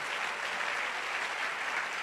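A church congregation applauds steadily and densely, a continuous wash of many clapping hands heard at close range without a break.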